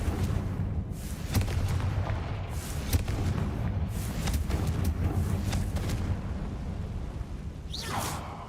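Confringo blasting-spell explosion in the video game Hogwarts Legacy, a steady rumbling blast with crackling debris and sharp pops over about eight seconds, ending in a rising whoosh.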